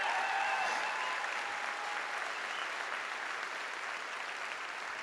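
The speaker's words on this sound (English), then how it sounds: "So clap it up for them right now" A crowd at a high school event applauds steadily, dense clapping filling the room at a loud, even level throughout with no voices breaking through.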